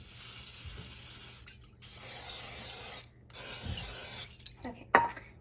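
Cooking spray hisses onto a waffle pan in three steady bursts, each lasting about a second or more with short pauses between, close and fairly loud, ending with a few light clicks and taps.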